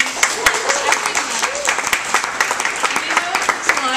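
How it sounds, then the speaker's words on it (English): An audience at a Net Tuesday talk on website redesign gives a round of applause, steady clapping with a voice speaking over it. "I just want to give him a round of applause"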